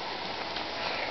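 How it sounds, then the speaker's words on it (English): Rain falls steadily outdoors on a rainy day, a soft, even hiss close by with no voices over it. "Wow, look at all that rain."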